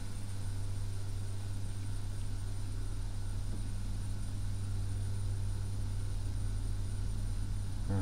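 Propeller plane engine in a flight simulator drones steadily and faintly as it accelerates for takeoff, a constant hum with a faint hiss over it and no voices.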